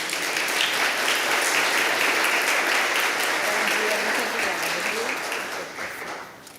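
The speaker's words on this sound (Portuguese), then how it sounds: "Palmas, por favor." An audience at a business crisis-management masterclass gives sustained applause welcoming the speaker onto the stage, a thick wash of clapping that holds for several seconds and then thins out at the end, with a faint voice underneath.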